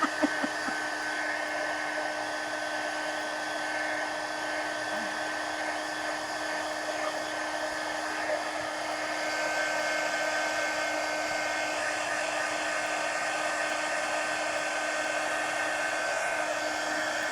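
A hair dryer blows steadily and close up over a mixed-media art journal page, holding a loud, even whir with a faint tonal whine for the whole stretch and no talk over it.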